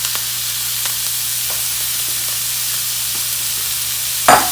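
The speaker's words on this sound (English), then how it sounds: "So now I'm going to add in our seasoned ground meat." Seasoned ground beef, squeezed with lime juice, sizzles steadily in a pan with onions and garlic, a constant close frying hiss with a brief stir scrape near the end.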